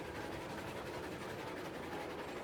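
A freight train in the Railroads Online game rolls steadily along the rails toward an iron mine, a faint, continuous rumbling with soft clattering wheels and no breaks in the sound.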